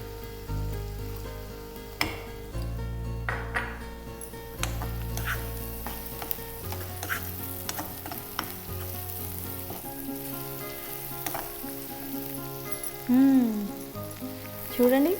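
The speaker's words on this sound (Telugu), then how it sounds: "ఉల్లిపాయ ముక్కలు వేసుకోవాలి." Onions fry in hot oil with cloves, cardamom and cinnamon for butter chicken. A continuous close sizzle with stirring runs throughout, and background music plays along with it.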